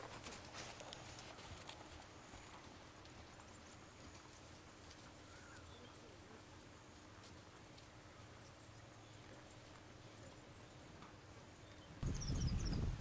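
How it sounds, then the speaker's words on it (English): A horse trots under saddle, producing steady rhythmic hoof clip-clops that are faint and distant over outdoor background with birds and wind, ending in a louder rustle. "He's got a fabulous trot"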